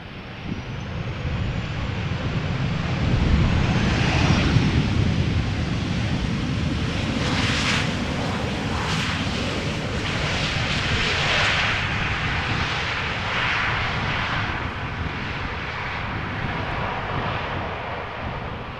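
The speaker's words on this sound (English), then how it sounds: "Got a 737 arriving from Paris Charles de Gaulle" A KLM Boeing 737 arriving at Amsterdam Schiphol from Paris on a showery day, its engine roar a steady, broad rumble that holds loud for the whole stretch, mixed with wind and rain-like hiss and no talk.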